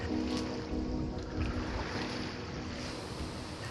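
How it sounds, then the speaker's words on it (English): Ocean water slapping and washing against wooden pilings beneath an overwater bungalow in Bora Bora, a steady close rush of waves with some wind noise, continuous and without voices. "all night long, the ocean slapping against the wooden pilings underneath you."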